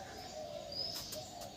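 Caged pigeons coo in low, soft, repeated calls over a steady background, with a few brief higher chirps mixed in.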